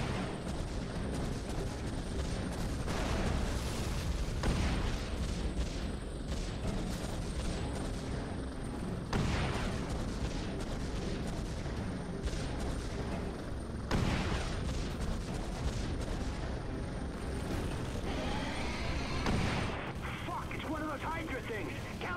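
Artillery fire from a Firehawk strike in the Prototype 2 video game, a dense barrage of heavy booms and blasts rolling continuously across the scene, with voices talking over the loud battle din.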